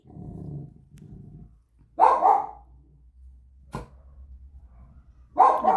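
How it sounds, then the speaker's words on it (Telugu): Dogs barking outside, loud and close, in sharp bursts around a low growling rumble, with distinct barks separated by quieter gaps. "బయట శబ్దం చేస్తున్నారు కుక్కలు అరుస్తున్నాయండి"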